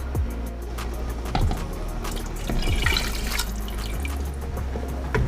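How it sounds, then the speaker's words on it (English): Water splashes and trickles into a pot of yam in uneven bursts, close by, with drips and clinks punctuating the steady pour. "Add some water"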